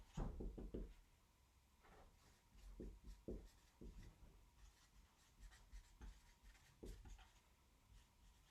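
Pen or pencil writing by hand on paper, faint scratchy strokes in short irregular bursts, close but quiet, with soft rubbing and a few light knocks against a quiet room.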